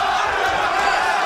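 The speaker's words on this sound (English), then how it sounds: "You can hear the crowd very much in support of Martirosyan" A boxing arena crowd roars in support of a fighter during a bout, a loud, unbroken wall of cheering and crowd noise with no distinct breaks.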